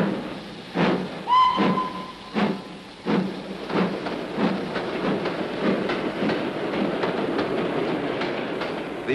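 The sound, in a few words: train running on rails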